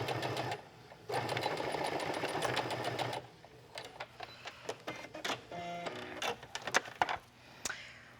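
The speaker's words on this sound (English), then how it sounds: "I'm sewing through 3 layers of fabric and just doing a straight stitch with my stretch thread" A sewing machine straight stitching through three layers of swimsuit fabric with stretch thread, a fast close mechanical whirring run in two bursts, then slower start-stop clicks and short stitching spurts.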